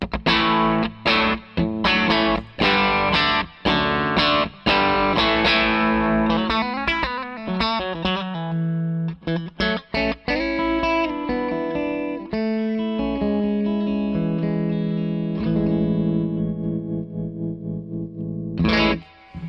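A clean Telecaster electric guitar through a pedalboard plays a lively passage of picked notes and chords with a shimmering, effected tone and some echo, fairly close and prominent.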